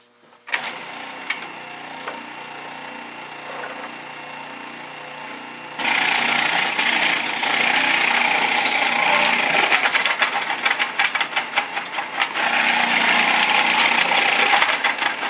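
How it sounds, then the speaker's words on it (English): A food processor shreds carrots for coleslaw, a steady loud motor whir that jumps to a harsher, grinding roar partway through as the carrots are fed in, continuing close and unbroken to the end. "I definitely recommend a food processor if you have one."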